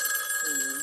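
A telephone bell rings on a step-by-step telephone switch, one short steady electric ring heard close and clear.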